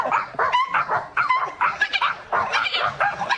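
A voice imitates a pack of barking dogs, with rapid yips, bow-wows and whimpering yelps in continuous loud bursts, delivered close up as a comedy impression.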